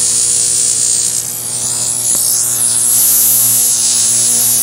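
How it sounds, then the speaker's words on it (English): An atomic hydrogen welding torch running on 300 volts with hydrogen gas gives a steady, loud electrical buzz and hiss with a strong hum underneath, continuous throughout with no talking. "we're going to investigate atomic hydrogen welding"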